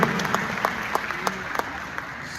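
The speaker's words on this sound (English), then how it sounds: "Come to clap for us." An audience claps at a live community gathering, with steady, crisp clapping punctuated by a few sharper claps and no voices heard.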